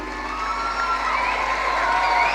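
A large crowd at the Puttur Piligobbu 2023 tiger-dance festival cheers and shouts together in a continuous loud roar, with high whoops rising over the din and little distinct clapping.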